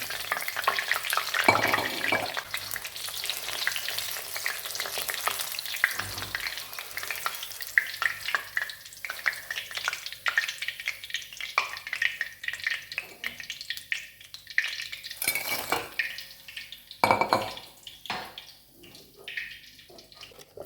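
Cauliflower pieces frying crisp in hot oil, a steady loud sizzle and bubbling close by, with occasional clatter and scraping as the pieces are stirred and lifted out.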